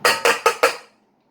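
Halved cherries tumble into a metal pot in four quick clinking knocks, evenly spaced and close, then silence.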